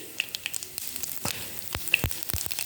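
Mustard seeds popping in hot oil for tempering, near and distinct: irregular sharp crackles and snaps burst out over a low sizzle, some isolated and some in quick clusters.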